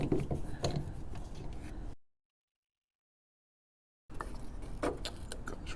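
Screws being removed from a car's license plate light, faint close ratcheting and clicking of a driver turning, cut by a two-second silence before more quiet clicking and rattling.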